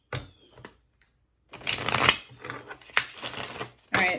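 Tarot cards being shuffled close by: a few quick riffles, a pause, then a long stretch of continuous shuffling with a final burst.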